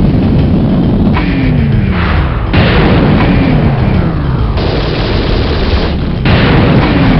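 Heavy, overlapping explosions as a genetic storage center is destroyed in the space-combat game Hellbender, with loud, continuous rumbling booms and sharp blasts filling the whole stretch without pause.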